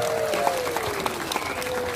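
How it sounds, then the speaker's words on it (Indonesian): Worshippers at an Indonesian church service applaud together in a full, continuous burst of clapping, with a faint gliding tone running through it. "Amin, tepuk tangan semuanya."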